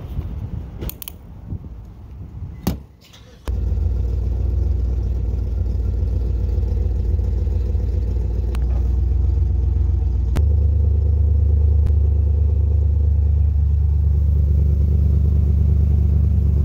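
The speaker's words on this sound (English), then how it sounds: "Gonna go ahead and just let it idle for a little bit more." A car engine idles steadily at a gas station, a loud continuous low rumble throughout after a few brief knocks and clatters at the start.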